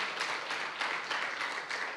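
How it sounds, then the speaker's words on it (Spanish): A church congregation claps together, a soft, fairly distant patter of many hands swelling in slight waves and holding steady, with no voices over it. "Vamos a darle un fuerte aplauso al Señor"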